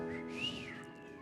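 A person whistles a tune alone, a clear, sustained melodic line that bends upward and back down over steady low background hum, fairly close and moderately loud.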